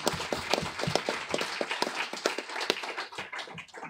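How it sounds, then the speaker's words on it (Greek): Scattered hand claps from an audience at a book presentation, a loose patter of individual claps rather than a full ovation, fairly faint and thinning toward the end. "Ένα χειροκρότημα παρακαλώ."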